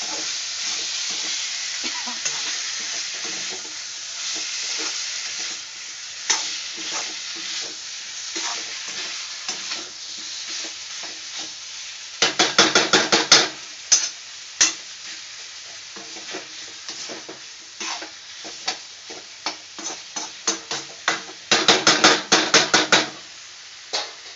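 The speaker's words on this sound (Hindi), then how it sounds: "चिकन को थोड़ी देर के लिए फ्राई होने के लिए रख दूँगी" Chicken pieces for a desi chicken curry fry in a pan over a low flame, giving a steady sizzle with repeated bursts of stirring and clattering of a spoon against the pot, louder scraping clusters near the middle and end.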